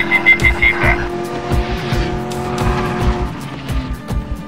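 Car driving fast in Medal of Honor Warfighter, a PC shooter game, its engine droning steadily while tires squeal in sharp repeated bursts near the start, loud and close, with no talk over it.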